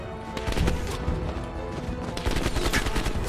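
Bursts of rapid gunfire crackle in quick succession, sharp and busy, from the video game Call of Duty: Black Ops Cold War campaign.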